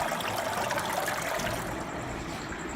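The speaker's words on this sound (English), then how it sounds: "the water is sucked up to the filter from siphon, and it comes back like this" Water runs steadily back from a siphon-fed 28-liter DIY barrel filter, driven by a 3,600-liter-per-hour pump, into a 370-liter fish tank. It makes a continuous, fairly loud splashing rush with no pauses and no talking.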